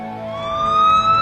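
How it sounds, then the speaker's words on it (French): Wailing emergency siren of an ambulance, a steady rising and falling tone with strong harmonics, loud and close, heard alone with no voices. "Sa famille appela l'ambulance."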